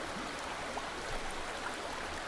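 Flowing water in Aporia: Beyond The Valley, a steady broadband rushing like a stream, continuous and even throughout with no talking.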